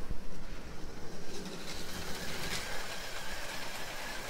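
LEGO model of a BR01 steam locomotive, built six to seven studs wide, running on its track with a steady close rattling and whirring roll, fairly quiet and without talk.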